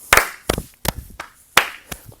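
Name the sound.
hand clapping rhythm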